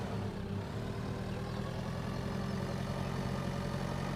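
Farm vehicle engine idling in the video game Pure Farming, a steady low rumbling drone with constant loudness and no talk.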